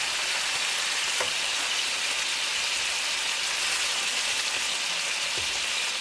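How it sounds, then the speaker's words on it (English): Pork loin back ribs pan fry over medium gas, giving a dense, even sizzle that stays loud and close throughout with a couple of faint knocks, no voices. "On medium gas, cooking for 5 minutes, we're going to turn each pieces over."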